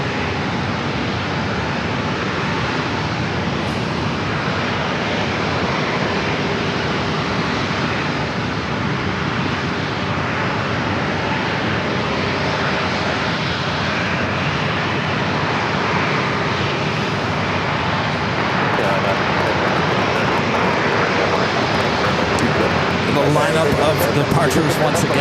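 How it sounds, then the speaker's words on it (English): Airliner on short final for runway 27 at San Diego International Airport, a loud, continuous jet engine roar that holds steady and swells slightly toward the end, with a voice talking over it. "our next arrival is short final for runway 27"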